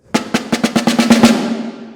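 Snare drum roll that starts as spaced 16th-note strokes and quickens into sextuplets, about ten crisp strokes blurring into a smooth sustained buzz that fades out, played solo and close.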